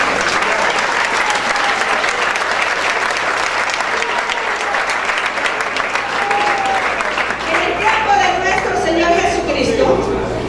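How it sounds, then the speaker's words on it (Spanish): A church congregation breaks into loud, sustained applause that fills the whole stretch, with a few voices calling out over the clapping toward the end. "Dense un fuerte aplauso por favor."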